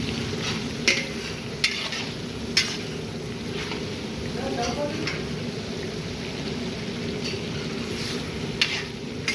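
About 3 kilograms of finely cut chicken browning in a pan with spices, a steady sizzle under repeated sharp scrapes and clinks of a spoon stirring against the metal, with a voice speaking at times.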